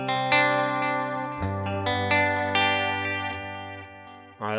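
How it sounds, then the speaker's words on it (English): Electric guitar played through a Headrush Gigboard with delay added on top of reverb, a few sustained strummed chords ringing out loud and close, each trailed by repeating echoes, with no voices. "And we'll add in our delay."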